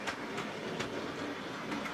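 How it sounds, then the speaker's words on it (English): A cartoon steam tram engine chugs along quietly on a branch line, with soft regular puffs and a low rolling rumble over a short stretch. "Toby the tram engine likes to work hard on Thomas's branch line"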